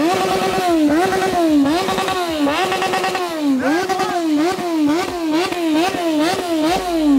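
A loud Yamaha XJ6 motorcycle engine close by, in neutral, its pitch rising and falling repeatedly as the throttle is blipped, with a rough idle underneath.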